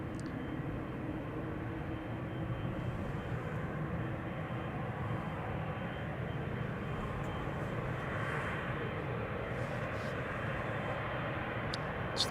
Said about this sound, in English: This is KLM flight 691, which in a few moments will be leaving for Toronto